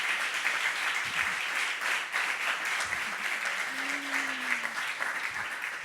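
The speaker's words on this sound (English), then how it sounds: "Please, a round of applause to them." An audience at a startup demo day in Spain gives a sustained round of applause, steady dense clapping throughout, with a brief cheer or whoop rising above the crowd midway.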